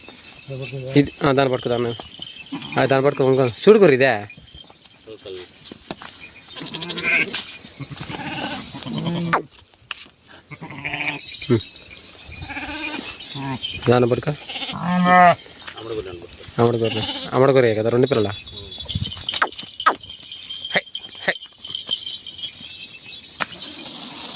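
Sheep in a village flock bleat loudly and repeatedly, in wavering cries, as people try to catch a large one. Excited shouting and talking run throughout, alongside shuffling and scuffling.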